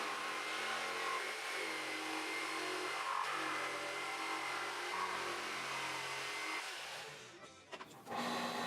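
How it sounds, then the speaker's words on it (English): A jigsaw cuts an arc across the top of a wooden Adirondack chair piece, with a loud, steady motor buzz throughout that tapers off near the end before briefly picking up again. "I use a jigsaw to just cut out the top"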